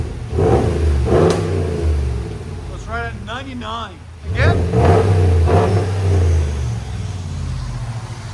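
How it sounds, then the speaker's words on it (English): A 2022 RAM pickup truck's 5.7L V8 engine with aftermarket exhaust revving hard twice in quick surges, a deep throaty roar close by that settles into a rumbling idle. "Rev it high."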